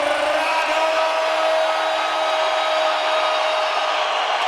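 A boxing arena crowd packed to the rafters before a WBO light welterweight title fight fills the space with a steady, dense roar of murmuring voices, loud and continuous throughout.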